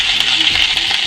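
Chenangi leaves for chutney fry in a pan with a loud, close, dense sizzle and faint stirring scrapes throughout.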